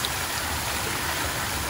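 Water pouring from a medieval public artesian fountain in a small park, a steady, dense rushing splash that is close and fairly loud and continues without a break.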